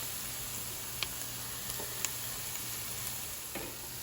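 Onion softening in hot oil in a pan as ginger goes in, a steady soft sizzle throughout with a few faint clicks of a utensil and no talk.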